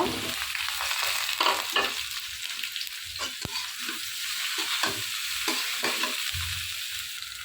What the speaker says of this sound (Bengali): এখানে লাউ শাকটা বেজে নিচ্ছি আর পেঁয়াজ রসুন মরিচ সাফ হয়ে গেছে